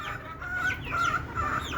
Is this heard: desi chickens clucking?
yes